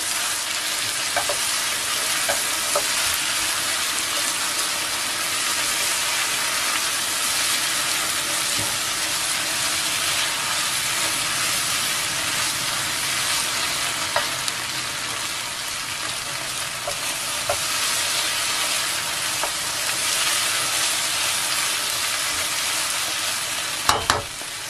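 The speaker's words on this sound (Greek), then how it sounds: "ανακατεύουμε." A pan of ingredients fries loudly and steadily with parsley, heard as a dense, unbroken sizzle up close with occasional scrapes and clicks of stirring. No speech for the whole stretch.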